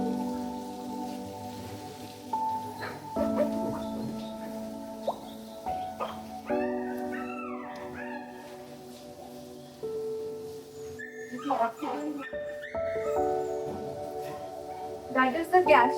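Several puppies whine and yelp in high, wavering cries, with a few sharp barks, close by in an animal hospital ward, against a background of soft patter and movement.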